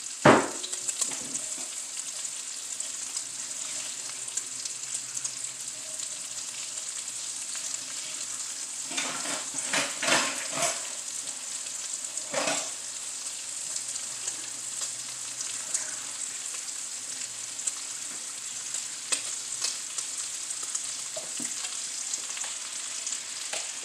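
Potatoes sizzle steadily in a hot pan for Sunday dinner, a constant close frying hiss broken by occasional scraping and clinking strokes as they are stirred.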